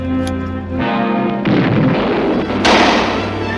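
Gunfire at a pistol firing range sounds as a few loud, near booming reports, each followed by a rumbling tail, with steady droning noise in between.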